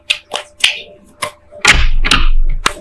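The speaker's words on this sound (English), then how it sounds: "I have a toddler playing with blocks, so if you hear banging in the background" A toddler banging toy blocks indoors, a series of sharp irregular knocks and thuds spaced through the moment, with one louder busier clatter in the middle, fairly close.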